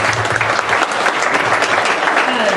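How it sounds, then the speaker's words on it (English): Audience at a Redmond community candidate forum claps for the mayoral candidates, a loud, dense and steady round of applause filling the room. "could we give them one more round of applause"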